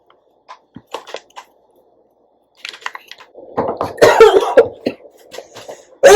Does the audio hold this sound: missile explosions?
no